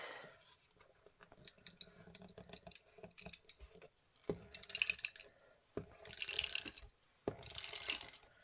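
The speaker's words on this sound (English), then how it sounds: "I'll just use my runner tape" Adhesive tape runner rolling across paper at a collage table, a series of close, dry clicking and ratcheting strokes in irregular bursts, with louder scratchy pulls toward the end and no talking.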